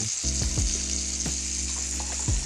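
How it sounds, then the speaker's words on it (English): Apples and onions fry in a hot pan, a steady bright sizzle throughout with a few soft scrapes and stirs, close and fairly loud, no talk. "Make sure you keep hearing the sizzle of the apples and the onions."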